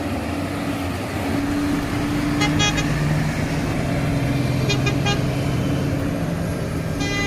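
HINO 500 FM1A 344 hp truck hauling a trailer loaded with soil pulls away, a steady low diesel drone that rises through the gear changes, with a few short horn toots partway through and another near the end.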